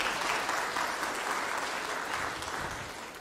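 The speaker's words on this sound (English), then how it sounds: "I think that is a round of applause" A church congregation applauds during a Sunday service, a steady full round of clapping that slowly fades toward the end, with no speech over it.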